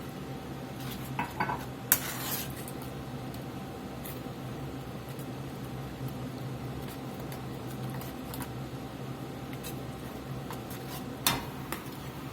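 Swedish meatball sauce with heavy cream simmering in a pan, a soft steady bubbling hiss throughout, with a few faint utensil clinks and taps.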